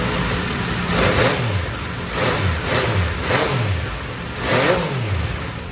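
An MV Agusta Brutale 800 RR three-cylinder motorcycle with its stock triple exhaust revs in repeated bursts, five loud throttle blips that rise and fall in a steady rhythm, close and alone.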